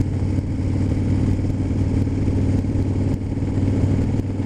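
A Harley motorcycle out on a springtime ride, its engine a steady, loud, low rumble that drones continuously with little change, heard up close and alone.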